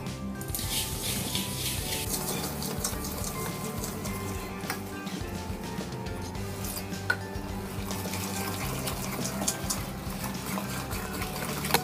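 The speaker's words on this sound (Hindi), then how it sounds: "फ्रेंड्स, अब हम इसमें थोड़ा थोड़ा पानी डालकर बैटर तैयार करेंगे।" Water runs in a steady, moderate stream as it is added little by little to flour batter for sweet chilla-style pude, a continuous trickling wash with faint kitchen clinks and no talk.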